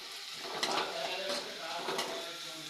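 Onions, with optional capsicum, frying in a pan, giving a steady soft sizzle with occasional scraping clinks of a utensil, close and moderately loud, with no talk over it.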